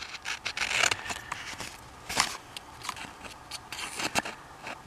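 Scissors cut along a plastic diamond painting kit package, giving faint, close snips and crinkly scraping in irregular bursts, with no talking.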